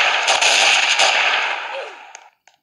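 A burst of gunshots in the Roblox game Prison Life, a loud crackling volley that fades over about two seconds into a few faint scattered pops.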